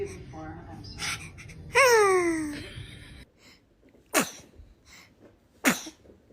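A tiny newborn lets out one clear, squeaky sneeze, followed by a couple of short, sharp sniffs or sneezes. Everything is close and quiet, and an adult voice murmurs faintly at the start.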